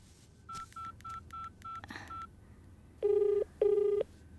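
Telephone keypad tones beep in a quick series of short, evenly spaced presses, then two longer, louder tones follow after a brief pause.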